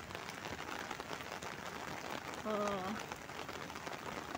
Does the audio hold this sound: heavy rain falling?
yes